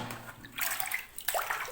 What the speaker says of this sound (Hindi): ये फ़ोन गया पानी में।